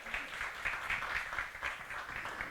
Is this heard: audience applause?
yes